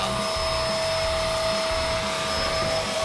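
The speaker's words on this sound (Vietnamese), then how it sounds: "Bây giờ xài cái máy hút bụi giá rẻ này coi sao, nó phun nước liên tục á." A cheap, yellowed vacuum cleaner that sprays water while it vacuums and mops a floor gives a loud, steady motor whir with a high whine, running continuously from start to end with no voices.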